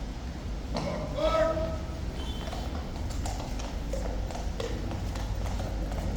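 Police horse hooves clip-clopping on pavement, a steady series of sharp hoof taps heard among crowd chatter and a brief voice, moderately near.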